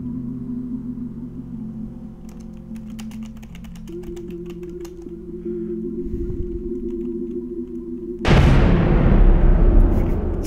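Amid a busy stretch of keyboard typing over a droning ship hum, a massive ship-mounted cannon in Starmade fires once near the end, a loud, close, roaring blast with a long rumbling tail.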